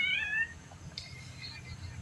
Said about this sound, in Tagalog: Naku, nagmimiyaw na naman yung ating alagang pusa.